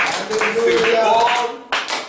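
A church congregation claps in acclamation, sharp uneven claps rising together under a loud, tuneful voice, then a brief pause and a fresh burst of clapping.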